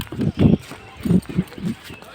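Horse hooves clip-clop in a short uneven run of thuds during a slow ride, close and fairly loud, with voices nearby.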